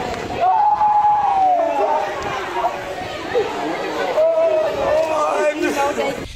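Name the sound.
angry crowd shouting outside court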